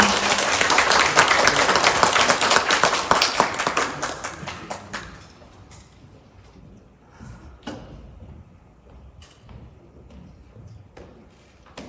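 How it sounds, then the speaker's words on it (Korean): Audience applause at an election training institute lecture contest, loud and dense at first, then thinning to scattered claps and faint room noise. "여러분 격려의 큰 박수 부탁드립니다"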